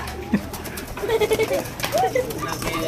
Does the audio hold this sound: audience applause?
no